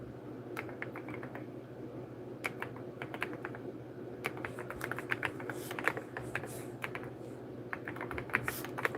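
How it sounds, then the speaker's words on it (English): Steady typing on a computer keyboard, quick irregular clusters of key clicks running the whole time over a low constant hum, close and moderately loud with no voices. "I'm typing names live."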